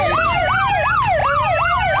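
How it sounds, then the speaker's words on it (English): Loud wailing emergency sirens from a children's VHS tape, a repeating rising-and-falling electronic whoop cycling about every third of a second, constant and piercing with no voices. "we begin our next act with ear-splitting sirens"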